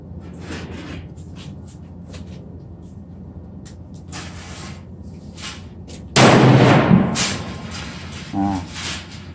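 A single loud, booming gunshot from a Browning AB3 .243 rifle fired outdoors, with a long decaying echo over steady low background noise, followed by a brief voice.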